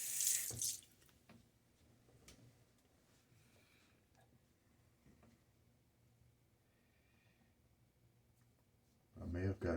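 Tap water running into a bathroom sink during a wet shave, a faint, steady trickle that swells to louder bursts at the start and end, with only a little talk.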